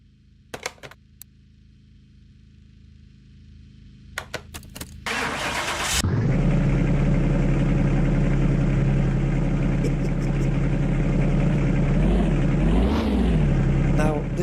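An Aston Martin Vantage in Car Mechanic Simulator 2021 cranks briefly, then fires up into a steady, loud rumbling idle with a small rev swell near the end.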